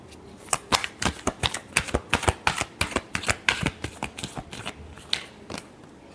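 Tarot cards being shuffled during a Libra weekly reading, a rapid run of crisp riffling snaps and soft flutters lasting several seconds, close and fairly quiet with no talk.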